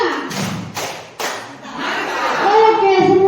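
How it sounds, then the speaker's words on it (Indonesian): Group of teachers clapping in a counted pattern during a positive-culture workshop: three separate, hard clap bursts in sequence, followed by a voice speaking over a hum. "Tepuk satu. Yes. Tepuk dua. Oke. Tepuk tiga."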